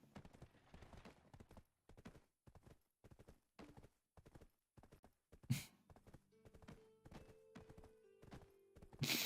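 A horse's hooves clip-clop steadily in Black Desert, an even trotting rhythm up close, with a sharp louder hit and a short tonal sound near the end.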